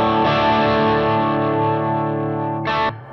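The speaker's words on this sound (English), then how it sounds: "let me try turning the distortion box on and off" A Line 6 Axsys 212 modeling guitar amp from 1996 plays a sustained chord through a distortion box, the buzzy tone ringing and slowly fading before a brief louder burst near the end.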